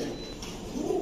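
Shaki Teddy pigeon cooing close by, a soft low murmuring coo lasting about a second with no talk over it.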